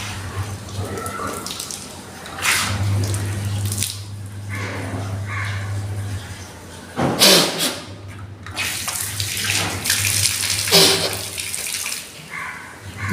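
Water pours from a tap and splashes into a sink during ablution, several bursts of rinsing and splashing over a steady running stream, close and fairly loud, with no talk.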